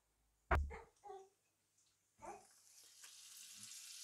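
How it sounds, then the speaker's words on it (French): Ten grams of butter dropped into a hot frying pan: a sharp knock and a short clatter, then a soft, steady sizzle rising and holding, faint and close in an otherwise quiet kitchen. "Donc on va rajouter en fait là les 10 grammes de beurre là."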